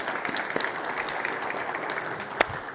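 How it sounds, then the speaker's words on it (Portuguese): An event audience gives a round of applause to introduce a guest speaker at a business lecture, a faint, distant wash of clapping with one sharper clap near the end. "salva de palmas, João Montiel."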